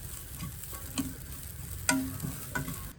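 Grated coconut dry-roasting in a pan over a low flame gives a quiet, steady crackle and sizzle, with a few faint clicks of stirring and no voices.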